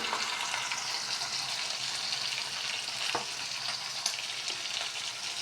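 Boal fish pieces sautéing in oil seasoned with a little turmeric and salt, a steady close crackling sizzle with occasional sharp pops and spatula scrapes, no talking.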